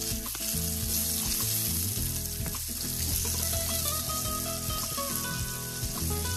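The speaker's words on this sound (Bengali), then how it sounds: "মিডিয়াম হিটে যদি বেগুন ভাজা হয় তাহলে কিন্তু বেগুনটা একদম ইভেনলি ভাজা হবে" Eggplant fries in hot mustard oil with a loud, continuous close sizzle and crackle, with occasional stirring scrapes.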